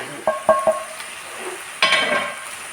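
A spoon clinks three times against a pan of frying grated coconut, then a brief burst of sizzling and stirring follows, close and moderately loud, with no talking.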